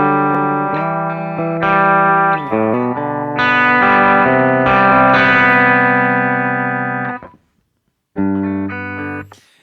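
Electric guitar played through a Lollygagger FX Canaglia pedal, with sustained, loud chords and notes that ring with a driven tone, broken by a brief silence before one last chord.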